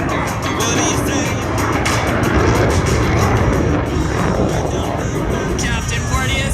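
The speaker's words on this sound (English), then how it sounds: "Captain Porteous is cranking those afterburners again. He's accelerating to almost the speed of sound." A Royal Canadian Air Force CF-18 jet accelerating on afterburners at an airshow, a loud, continuous, broadband roar with a voice faintly present beneath it.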